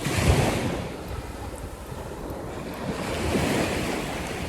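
Ocean waves wash onto the beach at Finisterre on a sunny day, a continuous surging roar that swells and recedes, mixed with wind noise, and no voices.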